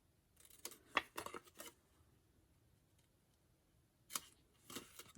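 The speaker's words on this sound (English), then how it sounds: "So I'm going to cut these little corners out." Scissors cut the corners out of folded paper in a few quick bursts of crisp snips, quiet and close, with short pauses between.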